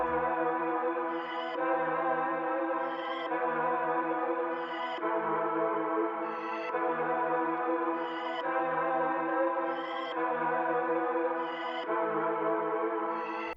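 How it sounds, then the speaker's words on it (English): Two stacked synth chord layers from Analog Lab presets, sustained and played as a repeating progression with a faint high accent at each change, steady and alone for the whole stretch, for a New York drill beat. "And now that I've got both of my chord layers stacked up, they sound like this."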